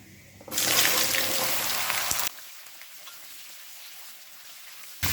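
Chopped mixed vegetables go into hot oil seasoned with bay leaf and five-spice for a mung dal dish, giving a loud, close sizzling burst for about two seconds that drops to a softer fry, then flares again briefly.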